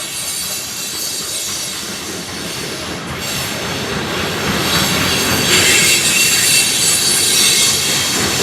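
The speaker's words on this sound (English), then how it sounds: "which is a train passing" A train rolls past close by in Scottsville, Virginia, loud rumbling with rattling wagons and a high metallic wheel squeal, swelling louder toward the end.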